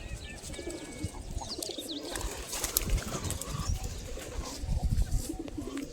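Domestic pigeons coo softly in low, rounded calls repeated through the scene, with a few chirps and faint background noise and no clear talk.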